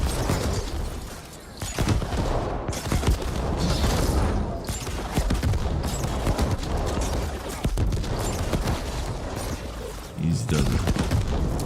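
Rocket launcher fire and explosions in the video game The Ascent, dense booming blasts with rattling gunfire layered over game effects, loud and continuous, with someone talking over it.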